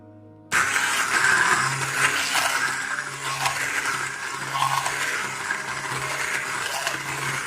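A mixer grinder on its slow setting grinds curry paste for a lamb curry, starting abruptly and then running as a steady, loud motor whir with a low hum and a gritty, churning texture throughout.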